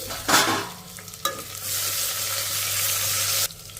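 Dried red chillies frying over a medium flame, stirred in a pan: a loud, dense sizzle with scraping stir strokes, close by, cutting off abruptly near the end.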